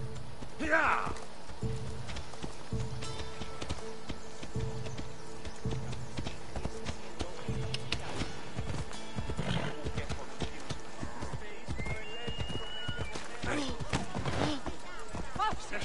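Hooves clip-clop steadily as a horse is ridden in the video game Assassin's Creed Odyssey, with occasional whinnies and game ambience, under near-constant talk from a French-speaking player.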